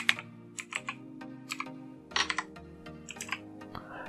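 Keys clacking on a computer keyboard as a command is entered to repair a Windows 10 blue screen startup error, in short irregular bursts of close, crisp keystrokes with brief pauses.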